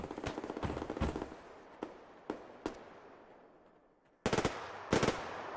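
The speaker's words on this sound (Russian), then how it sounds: "По мне стрелять." Gunfire in the Survarium video game: a rapid automatic burst, then several single sharp shots spaced apart, then two more loud close bursts, with no talking.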